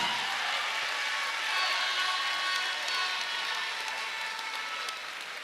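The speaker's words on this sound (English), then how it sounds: "if you are clapping, clap better" Crowd applause at a political launch event, a continuous wash of clapping at moderate, steady level with faint cheering mixed in.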